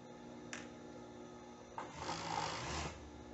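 A sewing machine runs short bursts of stitching through fabric for a plus-size top, first brief then a longer steady whirring run, close and alone without speech.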